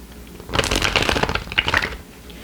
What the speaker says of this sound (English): we're just going to shuffle it